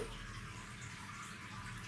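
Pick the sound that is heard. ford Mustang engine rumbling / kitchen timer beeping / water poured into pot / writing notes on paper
water poured into pot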